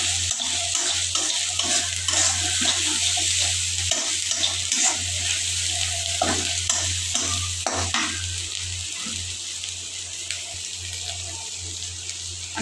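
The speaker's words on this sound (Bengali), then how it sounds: "অনেকটা ভাজা ভাজা হয়ে গেছে" Spices frying in a pan for a dried fish curry, a loud continuous sizzle with repeated scraping and clattering of a spoon stirring, steady low hum beneath, no talking.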